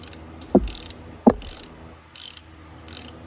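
A ratchet working loose a 10 mm hose fitting on a 1988–97 Nissan D21 pickup during a thermostat replacement, giving two sharp clicking bursts followed by three softer, airy ratcheting runs, close and clear with no talking.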